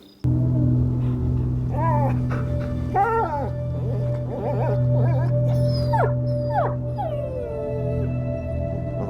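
A dog whines and yelps in the medieval video game A Plague Tale: Innocence, a series of high, rising and falling whimpers and short yips over a steady low background drone, close and fairly loud.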